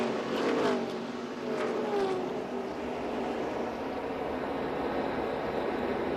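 ARCA Menards Series stock cars roar together as they take the green flag at Kansas Speedway, making a loud, dense wall of engine noise with rising revs that holds steady throughout.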